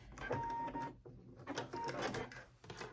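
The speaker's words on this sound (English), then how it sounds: "let's go ahead and sew it down" Sewing machine stitching the hem of a tank dress, close bursts of rapid mechanical whirring and clatter separated by brief pauses.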